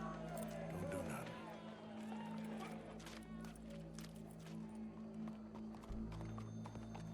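Horse hooves clip-clopping at a steady walking rhythm in the video game Red Dead Redemption II, fairly faint beneath a constant low ambient hum and occasional game voices.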